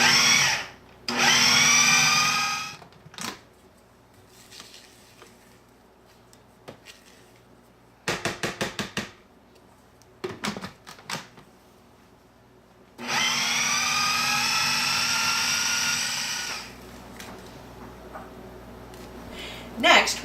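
A food processor creams softened cubed butter with granulated sugar in short loud whirring bursts, a long run at the start and another near the end, with quiet clatter and pauses between.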